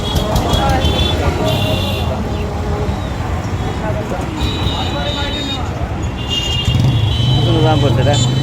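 Traffic jammed on a village road leading to the 201-dome mosque: a dense rumble of engines with repeated horn toots, some distant and some close, while people talk nearby throughout.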